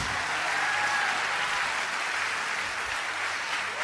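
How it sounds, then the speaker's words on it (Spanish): A church congregation applauds in a steady, dense wash of clapping that holds evenly at a moderate level for the whole stretch, with no voices rising above it. "dale un aplauso fuerte a Dios"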